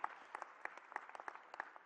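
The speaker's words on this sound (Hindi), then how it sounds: "ताली बजाओ तो दिल खोल के बजाओ, ऐसा लगे कि ताली बज रही।" An audience applauds at the launch of a youth conclave attended by a state chief minister, with scattered individual claps rising from a steady crowd clapping, heard at some distance and fairly faint.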